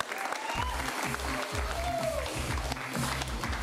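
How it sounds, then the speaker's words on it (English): An improv comedy audience claps in a fairly faint, brief round of applause, heard beneath a rhythmic low thumping of music that pulses throughout. "give those 3 people a round of applause"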